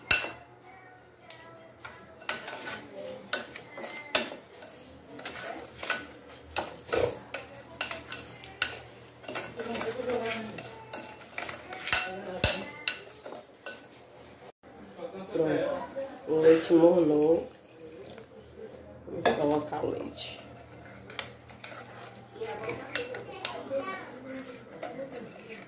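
A spoon stirs a quick cheese-and-ham bread dough mixture in a bowl, knocking and scraping the sides in irregular clinking bursts, close up, with a voice heard now and then.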